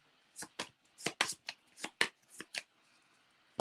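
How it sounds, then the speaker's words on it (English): Marvel trading cards are riffled and shuffled in a quick series of crisp, snapping bursts, close up, with a brief pause before a final flurry. "Shuffle them up."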